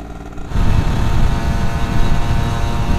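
A Yamaha F1ZR two-stroke motorcycle with a stock bored-out exhaust starts revving after a brief quiet moment, giving a loud, steady, rough engine drone close to the microphone.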